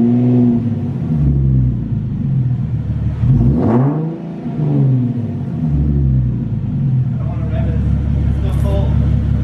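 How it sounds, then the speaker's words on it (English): A Nissan 370Z with a muffler delete revs loud and close, a raspy exhaust note rising and falling under nearby talk. "you could just do a muffler delete, and it will sound like that"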